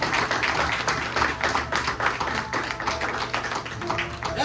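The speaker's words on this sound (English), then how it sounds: "Let's give God a hand clap of praise." A church congregation claps its hands in praise, a steady, moderately loud patter of many hands with some rhythmic emphasis and a faint voice or tone underneath.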